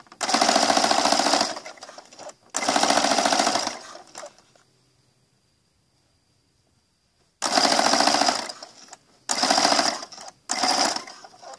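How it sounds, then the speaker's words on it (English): A sewing machine stitches Christmas apron ties with back stitching, loud close motor runs in bursts of one to two seconds, pausing in silence before several more short stitching runs, no talking. "I do a back stitch a couple of times and then I just go ahead and sew straight across"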